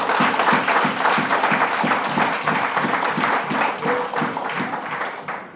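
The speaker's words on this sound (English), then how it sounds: "Give yourselves a big round of applause." An audience at a Ministry of Health event applauds, a dense, loud wash of clapping that sustains evenly throughout, with a faint rhythmic pulse in the crowd's hands.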